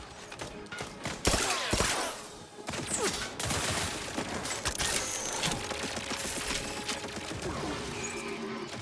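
Rapid turret gunfire in The Outer Worlds 2, a dense, loud barrage of overlapping shots with clanking mechanical impacts that keeps up steadily across the whole stretch.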